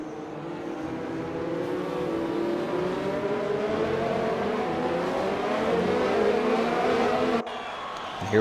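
Formula race cars in a racing video game at the Spanish Grand Prix accelerate as racing resumes after a safety car, with a continuous layered engine roar and rising pitches, loud and steady before it cuts abruptly near the end.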